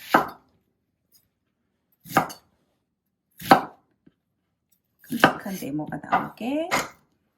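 A knife cuts pork into large cubes with three separate loud, sharp chops on a board spaced well apart, followed by a longer, busier run of cutting and clatter.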